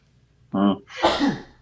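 A close, loud sneeze with a sharp voiced intake followed by a breathy, explosive burst, heard alone without talk.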